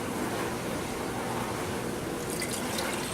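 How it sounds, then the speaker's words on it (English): Water pouring from a container into a pot while mixing homemade lye soap, a steady continuous splashing stream that runs alone throughout, near and moderately loud. "We'll pour that into our pot here."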